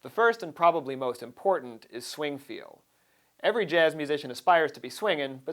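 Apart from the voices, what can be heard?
No everyday noise stands out behind the speech.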